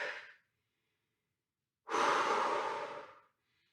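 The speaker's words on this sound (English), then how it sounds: "Breathe into the belly." A deep belly breath during a floor stretching exercise: a short exhale trails off, then after a pause comes one long, full breath, close and clear, with no talking.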